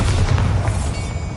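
Bombarda explosion spell in the Hogwarts Legacy video game, a loud, deep booming blast with rumbling low end that stays heavy and sustained through the brief moment.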